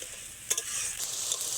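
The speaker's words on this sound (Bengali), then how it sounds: "হালকা আঁচে মশলাটা ভাজা হলে" Spices sautéing in oil over low heat for a fish-head and taro-leaf dish, a soft continuous sizzle with a couple of brief stirring scrapes, no talking.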